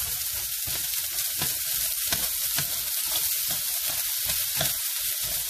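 Pork and jackfruit for ginataang langka sizzle steadily in a hot pan, a continuous close frying hiss with occasional soft stirring clicks, no voices.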